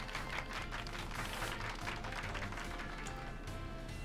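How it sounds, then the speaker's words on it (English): Applause for Pikachu in the video game Pokemon Violet: a continuous, fairly quiet patter of many hands clapping without a break, with no voices. "Applause for Pikachu."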